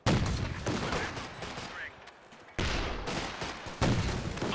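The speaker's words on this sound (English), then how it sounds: "Drops down the artillery over here, phosphorus" A white phosphorus artillery barrage in Company of Heroes 2 lands as loud bursts of explosions, each fading into a quieter lull before the next heavy salvo hits, near and punchy.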